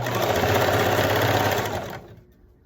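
A sewing machine hems the bottom of a sequin dress, running loud and close in a fast steady whir for about two seconds before slowing and stopping, with no voices.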